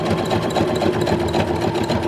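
A sewing machine stitches elastic onto the edge of a bra, a loud, close, continuous mechanical whir with a rapid rhythmic needle chatter and no talk.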